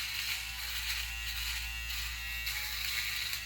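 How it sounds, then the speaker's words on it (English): A Seiga rechargeable electric shaver buzzes steadily and close up while it shaves chin stubble, a continuous motor whine with slight rasping variations and no talking. "you can actually hear it grabbing and pulling, well, not grabbing, but shaving here on my chin"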